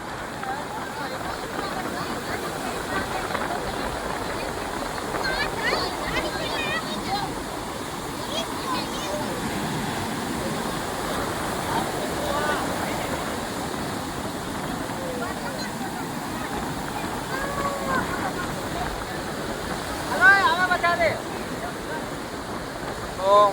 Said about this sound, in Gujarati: મોજા બહુ મારે હે તોફાની તો દરિયો છે